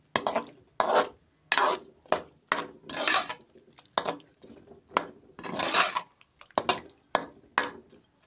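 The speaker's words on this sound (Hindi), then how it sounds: "अच्छी तरह से मिक्स करके इसको फिर दही इसके साथ मिक्स हो जाए अच्छी तरह से।" Spoon or ladle stirring a curry and yogurt mixture for fried eggplant in a pot, a close, rhythmic series of metallic scrapes and clinks with wet, sloshing mixing sounds, no voices.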